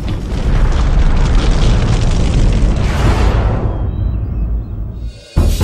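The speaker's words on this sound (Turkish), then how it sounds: "Bir patlama 60 milyon ağacı kökünden söker ve 120 hektardan fazla kırsal alanı yok eder." A documentary sound effect for the 1908 Tunguska explosion in Siberia: a loud, deep, roaring boom rumbles and rolls for several seconds, fades, then cuts off abruptly before another burst begins.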